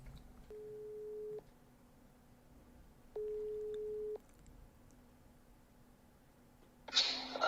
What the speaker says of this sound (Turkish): Aa bir dakika ya ben Sedat'ı bir arayayım. Telefon nerede